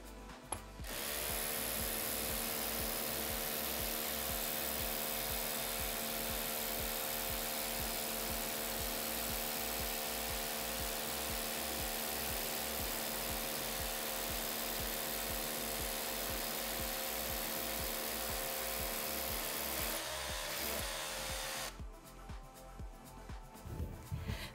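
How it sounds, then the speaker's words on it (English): A power drill runs steadily with a rapid hammering pulse as it bores a 12 mm hole, 90 mm deep, into a hard surface, loud and continuous for about twenty seconds before stopping. "we need to drill 12 mm diameter hole to specified embedment"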